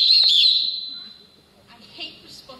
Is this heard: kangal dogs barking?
no